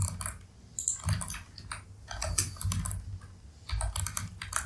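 Code being typed on a computer keyboard: quick, irregular runs of close key clicks with brief gaps, soft and alone.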